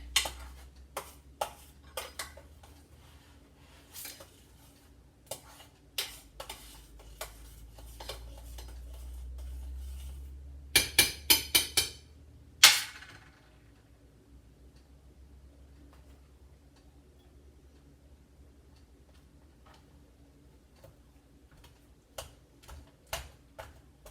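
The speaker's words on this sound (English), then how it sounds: "I think I've got it mashed good enough." Strawberries being mashed in a large pan for low-carb preserves, a series of close rhythmic taps and clinks of the masher against the pan, bunched in a quick burst, then sparse knocks in a quiet room.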